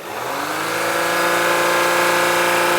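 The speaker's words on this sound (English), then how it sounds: "Rev it like you don't own it" Audi Q5 engine with a turbo boost fault revving hard under full throttle, a loud, steady, rising mechanical roar that builds and holds throughout, close by and alone.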